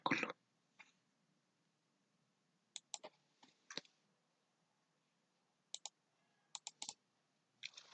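Sparse, quiet clicks of keys on a computer keyboard while a formula is typed into an Excel spreadsheet, coming in small scattered clusters with long silent gaps between them.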